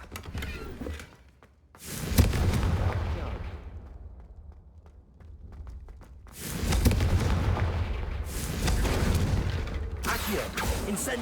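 Confringo fire spell in the Hogwarts Legacy video game blasts candelabras, heavy rumbling explosive bursts with long booming tails, one burst after another with brief quieter gaps between.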